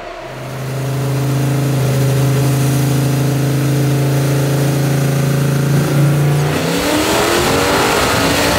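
A Nissan GT-R engine holds a loud, steady, droning rev close by, then drops into a rougher, gurgling rumble as the throttle is released.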